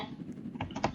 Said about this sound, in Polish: słyszeć moje odgłosy klawiatury